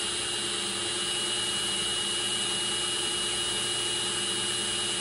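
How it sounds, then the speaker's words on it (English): IstaBreeze i-500 wind generator spinning and charging a 12V battery through a charge controller, a constant loud whirring drone with a steady high whine and no breaks. "there we have charging. That would be a lot of wind"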